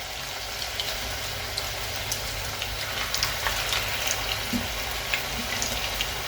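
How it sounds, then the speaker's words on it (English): Pork, pink salmon and chilli fritters shallow fry four at a time in hot oil, giving a steady close crackle and sizzle with scattered small pops throughout and no talking. "As you can see, shallow frying, absolutely lovely."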